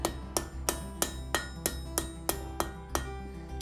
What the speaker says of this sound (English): putting in some veins on the leaf, and I'm using a cold chisel